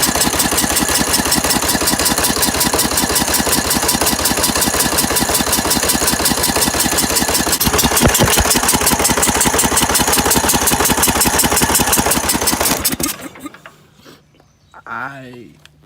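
An old lawn mower engine is cranked over with its starter, a loud rapid rhythmic chugging that runs steadily for about thirteen seconds, then cuts off abruptly into quiet with a short voice afterward.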